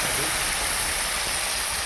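Sour Bengali curry with mustard paste boiling in a pot, a dense continuous bubbling hiss heard close and steady throughout.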